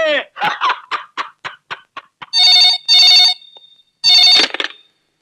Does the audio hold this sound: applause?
no